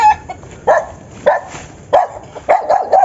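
A dog on a farm barks in sharp, repeated bursts, five or six loud close yaps spaced about half a second apart, with no talk over them.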